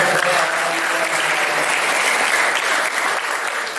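Sustained audience applause at a youth political school event run by a regional youth committee in Tegal, steady dense clapping filling the whole stretch with no voices over it.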